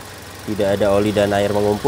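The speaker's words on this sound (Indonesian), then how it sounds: "Dan ini suara mesinnya, halus, standar, normal, tidak ada suara-suara kasar." Daihatsu Xenia 1300cc engine (2015 X automatic) idling smoothly with a low, steady hum, mostly covered by someone talking close by.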